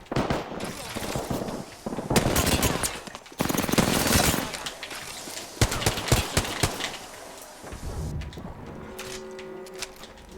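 Video game gunfire rattles in rapid automatic bursts and scattered single shots, loud and close, with short pauses between volleys.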